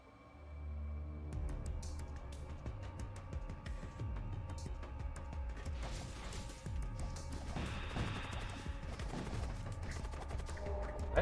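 Double missiles firing in the space combat game Void War: dense, continuous crackling blasts and rumbling impacts layered over a background game soundtrack, building in intensity toward the end.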